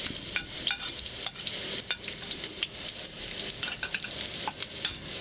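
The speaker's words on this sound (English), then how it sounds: "Add in your shallot." Shallots stir-fry in a hot wok with a loud, bright, continuous sizzle and frequent sharp scrapes and taps of the spatula tossing them.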